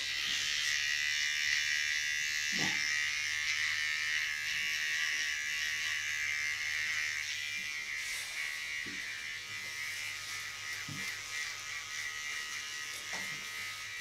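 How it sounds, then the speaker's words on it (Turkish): A barber's electric neck clipper buzzes steadily and close while shaving a head, a continuous hum with faint clicks and a slight drop in pitch partway through. "Bu ense makinesi bu."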